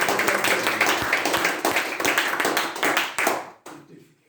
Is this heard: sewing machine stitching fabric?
no